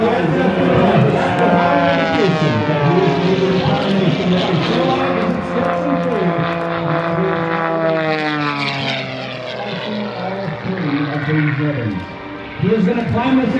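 Aerobatic propeller airplane at an airshow at Van Nuys, its engine droning loudly and continuously with pitch shifting as it climbs and maneuvers, a voice talking over it.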